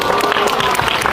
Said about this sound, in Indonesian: Wow, tepukannya.